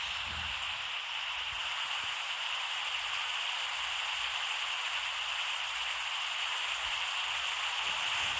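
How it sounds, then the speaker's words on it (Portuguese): Dense, steady downpour of heavy rain in a video game, hissing evenly throughout, with no voices and no breaks. "dos raios, dos trovoadas, da chuva fortona"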